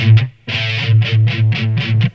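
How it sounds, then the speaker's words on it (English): Distorted electric guitar plays a riff as a chugging series of tight palm-muted notes, loud and close, with a brief gap after the first hit and then a steady rhythmic run. "throw in some palm mutes"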